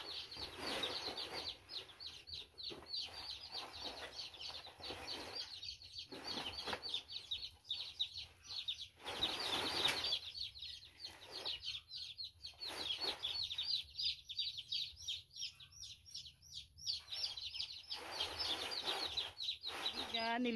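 Small chicks in a coop peep and chirp continuously, many high thin calls overlapping at close range, with occasional pauses and a faint steady low hum beneath.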